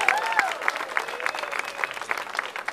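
An audience applauds a cajon player at a flamenco music performance, with steady, rapid crowd clapping and a brief whistle-like tone at the start.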